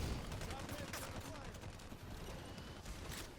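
Rapid gunfire from Halo 5 multiplayer fills the whole stretch, dense overlapping shots and bursts that are loud and continuous, with game effects blending underneath.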